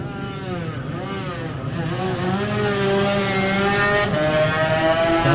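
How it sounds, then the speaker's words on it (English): A Wobbly Bob Racing Yamaha 250 two-stroke racing motorcycle in the Classic TT Lightweight race on the Isle of Man screams loudly past, its pitch climbing and falling through the gears, with the engine note swelling in volume as it passes. "now we've got that lovely 250, the Wobbly Bob Racing Yamaha of Gary Vines"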